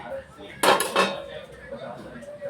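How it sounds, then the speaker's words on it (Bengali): A metal lid clanks as it is lifted off a pot of chicken simmering over medium flame, a short burst of clatter near the mic followed by quieter kitchen noise. "এবারে আমরা ঢাকাটা খুলে একবার দেখে নেব"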